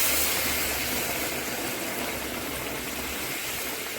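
Hot water is poured into mutton curry cooking in a kadai, producing a loud, continuous rushing hiss that holds steady for several seconds with no talk over it.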